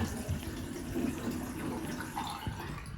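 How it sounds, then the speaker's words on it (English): Water drains steadily down an unclogged bathroom sink after a DIY fix, a continuous close gurgling wash with no pauses. "And that drains perfectly now."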